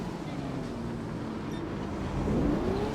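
A car drives in a racing video game, The Crew 2 or Forza Horizon 4, with a steady engine drone and a rising tone near the end, under heavy rushing wind-like noise.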